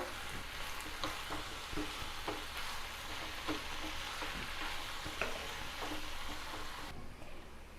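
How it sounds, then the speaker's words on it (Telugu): Onions with fenugreek leaves are stirred in a pan, giving a soft, steady scraping and light sizzle with small irregular clacks of the spoon, quiet and close, with no one talking. "ఇప్పుడు కొంచెం తిప్పుకుందాం. ఆనియన్స్ అన్నీ మిక్స్ చేసుకుందాం ఆకుతో"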